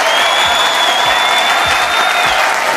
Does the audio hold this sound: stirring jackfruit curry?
no